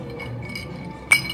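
Drinking glasses clink once in a toast at a bar in Oaxaca, Mexico, a single bright chime near the end of a short, quiet moment with faint room murmur.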